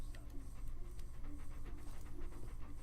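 A dog panting in the video game Fable 2, quick rhythmic breaths with a few soft whimpers, close and steady throughout.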